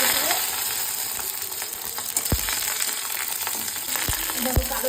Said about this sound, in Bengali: আমার বাটা করতে লাগবে শুকনো লঙ্কা, কাঁচা লঙ্কা, রসুন, কালো জিরে দিয়ে এগুলো সব তেলে ভেজে নেব